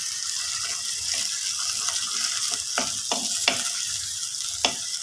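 Chopped onion, garlic and ginger sizzle steadily in a pan for a Pathanamthitta-style fish curry, with a soft frying hiss and several sharp spoon scrapes and taps as it is stirred, no talking.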